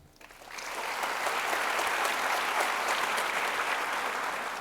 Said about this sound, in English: please join me in giving a round of applause to welcome our speakers for tonight's lecture